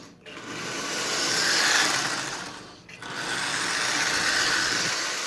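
A Lionel 246 model train locomotive motor runs in reverse, giving a steady close whirring buzz that dips briefly near the start and again midway before resuming, with no talk.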